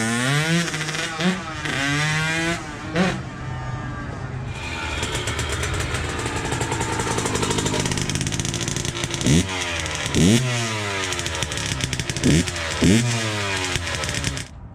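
KTM 65 dirt bike engine revving hard, with repeated rising and falling revs, a stretch of steady high-pitched running in the middle, and more quick throttle blips near the end.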